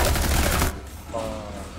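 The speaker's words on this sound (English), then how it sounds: "I'm eventually just gonna shoot it." Rapid gunfire in Rainbow Six Siege, aimed at an enemy's shield, rattles loud and dense for a moment and then breaks off abruptly, leaving a quieter tail with faint background noise.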